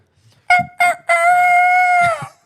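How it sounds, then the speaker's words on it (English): A rooster crow rings out loud and close: two short clipped notes followed by one long, drawn-out call that trails off, with no talking. "I think we gotta get the rooster call on here too."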